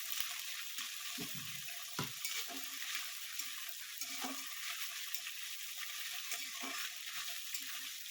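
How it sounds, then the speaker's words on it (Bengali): Prawns fry in a pan after a cumin tempering, with a close, continuous sizzle broken by several sharp stirring scrapes and clatters at irregular intervals. "চিংড়ি মাছটা আমি একটু লাল করে ভেজে নেবো"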